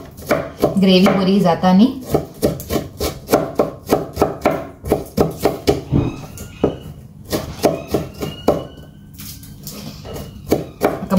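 A knife chops four or five onions finely on a board in quick, sharp, evenly spaced strokes, close and loud, with a brief spoken phrase at the start.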